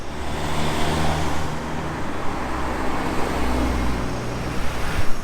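A Ferrari Portofino drives past on a Monaco street, its engine a steady low rumble blending into surrounding traffic noise, moderately loud and continuous with a slight swell near the end.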